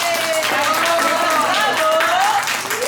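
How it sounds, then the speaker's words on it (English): Audience applause at a book launch, a dense, steady wash of clapping mixed with cheers and crowd voices, loud and sustained for a few seconds before tapering slightly at the end. "Let's give another round of applause to everybody."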